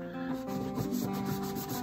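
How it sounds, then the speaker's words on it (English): Polishing wax rubbed by hand onto a restored 1950s Harmony Monterey guitar, a soft repetitive rubbing swish in steady back-and-forth strokes, close and fairly quiet with no voices. "now I'm just going over it with some polishing"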